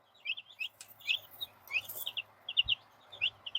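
Ten-day-old Araucana chicks and thirty-day-old golden pheasants chirp in quick, high peeps, repeated irregularly and close by, with a few soft thumps underneath and no talk.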